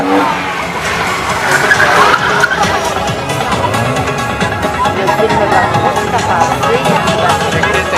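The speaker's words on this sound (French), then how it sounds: "On fait chauffer les mécaniques, on met l'huile à température, on fait chauffer les pneumatiques." Monster trucks warm up their tires at a show, engines roaring loudly with tire squeal and skidding in a continuous outdoor din, while an announcer's voice carries over it.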